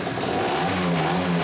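A motorcycle engine idles steadily after a test ride, a loud, close, even mechanical drone with a stable rumbling pitch and no voices.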